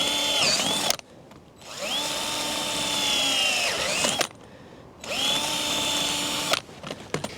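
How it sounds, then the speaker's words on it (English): A power tool whines through plastic tubing to cut a hole, running in three sustained bursts with a rising pitch at each start and short pauses between, close and loud with no talk. "This is really not a very elegant way of cutting a hole."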